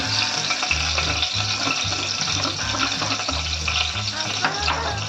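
Asafoetida sizzles in hot oil on a low flame while toor dal tempering is prepared, a continuous close frying crackle with a low rhythmic hum underneath.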